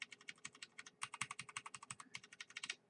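Rapid, steady typing on a mechanical keyboard with PBT keycaps on a Noppoo Choc Mini RGB, each keystroke a light, smooth, damped clack in quick bursts with a brief pause, close up and alone.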